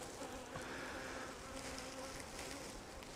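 Honey bees from a feisty, freshly split Flow Hive buzz steadily and close, a dense continuous drone with a few insects droning nearer for the full stretch, no voices.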